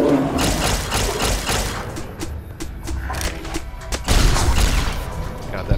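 A paralyzing gun fires in Fallout New Vegas, Honest Hearts expansion, as a rapid string of loud sharp bursts, pausing briefly midway and resuming with heavier booms, amid game ambience.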